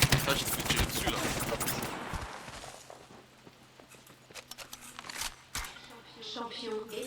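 Dense bursts of Apex Legends gunfire crackle rapidly for the first couple of seconds, then give way to sparser, scattered shots and impacts, with talk mixed in.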